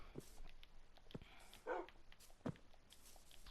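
A dog in the Minecraft video game lets out a few short, separate barks and yips spread across a quiet game scene, moderately close, with faint footstep-like taps between them.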